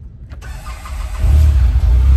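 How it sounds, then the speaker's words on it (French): A Polaris three-cylinder utility vehicle engine cranks and catches, then settles into a steady low idle close by, with no one speaking. "Et je démarre le véhicule."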